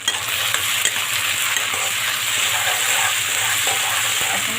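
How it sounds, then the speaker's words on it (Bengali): Chopped onions and chicken fry in a pan with a steady, close sizzle, broken by occasional soft scrapes and clinks of stirring. "এখন ভালো করে ভেজে নেব যতক্ষণে কাঁচা গন্ধটা চলে না যায়।"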